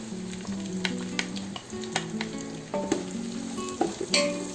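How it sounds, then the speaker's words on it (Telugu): Sliced onions sizzle steadily in hot oil for country chicken biryani, a close, continuous fry broken by a few sharp spoon scrapes and clinks, with no voices. "ఈ విధంగా స్లైసెస్ చేసుకుని వేస్తున్నాను"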